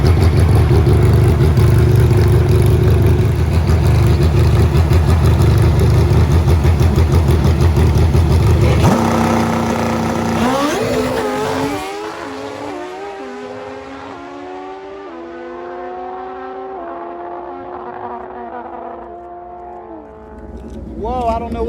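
A drag racing motorcycle fitted with a new 4-valve cylinder head blasts loudly at full throttle, then cuts out and winds down through falling, wavering engine tones into near silence, with an announcer talking over it.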